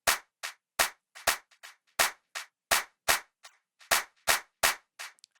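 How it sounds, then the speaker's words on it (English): Crisp clap sample on a Maschine MK3 with a dotted-eighth delay, sharp hits repeating in a steady syncopated pattern, each followed by softer, thinner echoes with the lows trimmed. "I want to cut some of the lows out of the clap itself too"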